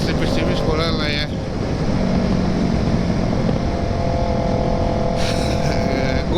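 A Kawasaki ER6n motorcycle engine on light throttle rumbles loudly and continuously with steady revs, passing traffic noise around it and a voice speaking over it.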